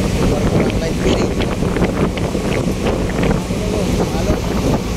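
Loud, constant wind buffeting and rushing water from a fast craft ferry at sea, a dense roar with engine rumble and waves running throughout, while a voice talks over it.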